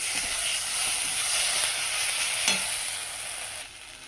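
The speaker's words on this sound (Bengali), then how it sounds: "আর বেশি ভাজবো না, ভাজা হয়ে গেছে।" Food fries on a gas stove with a steady, close sizzle and a brief clatter partway through. The frying fades slightly near the end, and no one speaks.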